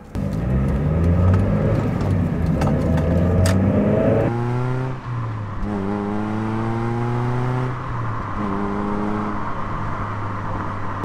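An NB Mazda Miata engine with a new ISR Performance exhaust revs repeatedly with a loud, droning note, the intake louder than the exhaust, rising and falling in several bursts before settling into a steady idle.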